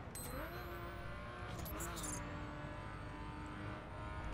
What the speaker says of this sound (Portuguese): Agora os caras estão colando aqui em mim. Ah, tô escutando o ronco, cara.